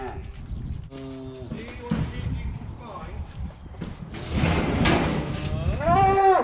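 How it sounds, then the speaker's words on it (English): A horned cow moos in a farm yard, a few drawn-out calls rising near the end over wind and background noise, with people talking nearby. "There's a cow with the horns."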